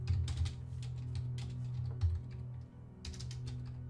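Someone types on a computer keyboard in quick clustered bursts of close, crisp key clicks with short pauses between, over a low steady background hum and no talking.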